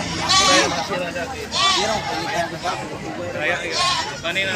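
Goats at a livestock stockyard bleat repeatedly in loud, wavering calls that overlap, while people chatter in the background.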